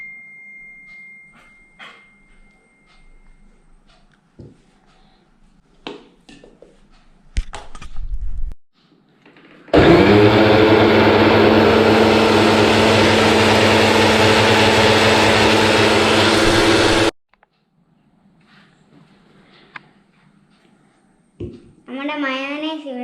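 An electric mixer blends homemade mayonnaise in one loud, steady whirring run of about seven seconds, close up, after a short earlier burst, with quiet handling sounds before and after.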